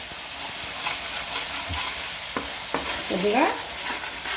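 Ginger garlic paste fries with onions in a pan, giving a steady close sizzle broken by scraping stirs, while a voice speaks briefly.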